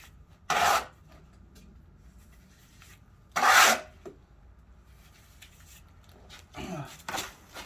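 A trowel scrapes across a stucco wall during texturing, giving two loud, separate rasping sweeps a few seconds apart, then softer scraping and a brief voice near the end.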